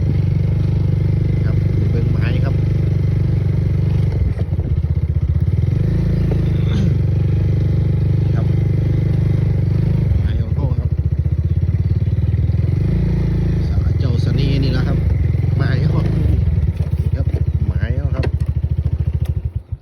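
A motorcycle engine idles and revs in a steady, loud drone outdoors on a morning outing, with someone talking over it throughout.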